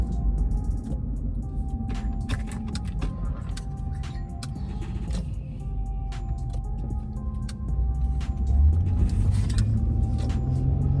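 Car cruising on a cold, wet road, a steady low rumble of engine and tire noise heard from inside, with a swell of louder road roar near the end.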